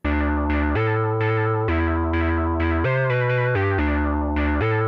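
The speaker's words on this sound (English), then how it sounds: "I've got a nice fat analog lead from G-Media's Oddity synth plugin." A thick, buzzy analog-style synth lead from G-Media's Oddity plugin plays a slow melody of sustained notes with a few pitch changes, loud and steady, with no voices.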